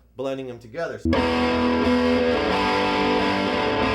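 A heavily distorted electric guitar played through a Randall RG80 solid-state amp sounds a sustained, gritty chord after a brief spoken phrase, ringing on loud and dense to the end.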